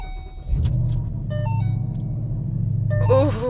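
A 2014 Ford Mustang engine cranks and fires up, settling into a steady, deep idle rumble close by, with electronic chimes from the cabin and people speaking near the end.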